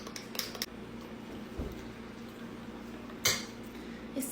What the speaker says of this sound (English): I give my espresso shots a little stir before I put them in